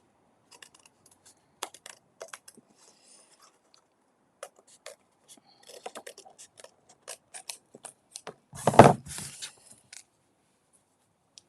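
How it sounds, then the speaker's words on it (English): Scissors snipping off excess cardstock during cardmaking, a series of small, close, quiet cuts and clicks, ending in one louder rustling, scraping burst near the end. "So I'm just trimming off the excess."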